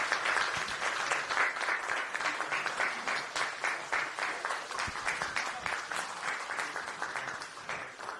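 Sustained audience applause at a Democratic Party of Korea appointment ceremony, steady dense clapping from a room of people filling the whole stretch without any talk.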